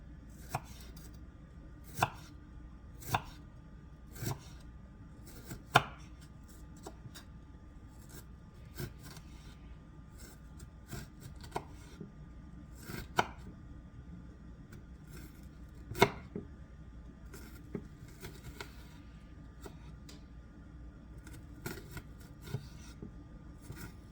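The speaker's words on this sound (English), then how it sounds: "So there are different ways of cutting onions." Knife chopping through an onion on a wooden board, cutting half-moon slices with sharp, irregularly spaced strokes. Each cut lands as a distinct tap against steady quiet background hiss, with no talking.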